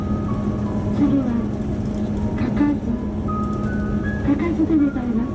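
Music box chime melody plays as an onboard announcement on an Okinawa Yanbaru Express bus, with plinking tones over the steady engine rumble and a voice speaking alongside.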